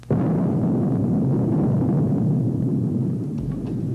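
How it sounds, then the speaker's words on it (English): Spacecraft exploding in a cartoon: a sudden loud blast followed by a sustained, deep rumbling roar that fills several seconds and slowly eases off. "Everybody take cover. It's going to explode."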